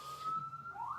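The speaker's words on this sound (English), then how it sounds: "Let's just let that ambulance go by." An ambulance siren wails steadily on a New York street, a sustained high tone that holds throughout and starts to rise in pitch at the end as the vehicle passes by, with no talking.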